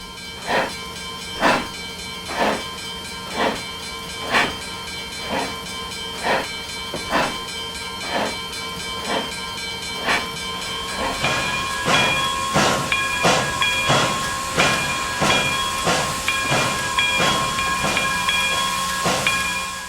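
The Flying Scotsman steam locomotive chuffing in a steady rhythm of hissing bursts, speeding up toward the end as the exhaust grows denser and louder.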